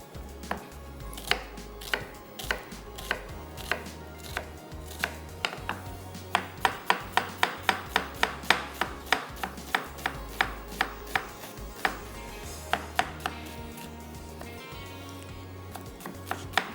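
A knife finely chops an onion on a board, sounding as a long run of sharp, regular taps, close and clear, with quicker bursts in the middle and no speech.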